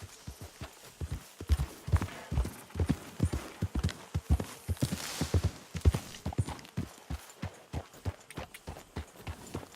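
Horse hooves clip-clop in Red Dead Redemption 2, a loud, close, rhythmic run of sharp hoofbeats continuing steadily throughout.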